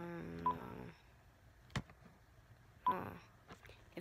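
A telephone number is dialed, producing a few separated keypad tones spaced over a few seconds, quiet against faint background noise.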